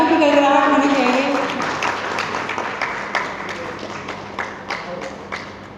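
Audience applause at a book launch ceremony, clapping loud at first and then thinning into scattered individual claps as it fades, with some murmuring voices.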